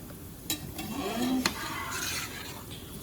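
Stirring melted chocolate into a pot of chicken mole: soft scraping and sloshing of the spoon, with a few light clinks against the pot and a quiet sizzle underneath.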